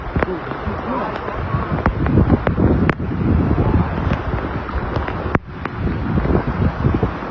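Strong gusty wind buffets the microphone in a continuous loud roar at a Ramadan bazaar in a storm, with sharp knocks and rattles of stall structures cutting through.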